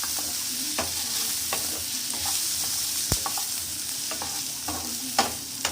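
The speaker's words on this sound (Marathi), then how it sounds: "तर यामध्ये आपण 2-3 लसूण कळ्या टाकूया, सोबत आलं टाकूया आणि याला छान परतून घेऊया" Onion sautéing in a pan with garlic and ginger for restaurant-style matar paneer, a steady close sizzle and hiss broken by repeated spoon scrapes and stirring clacks, with one sharp knock midway.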